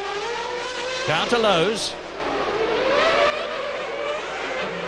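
Formula 1 race cars at the 1995 Monaco Grand Prix, heard from Damon Hill's car, a steady high engine whine with rising revs and passing tones, under continuous commentary talk.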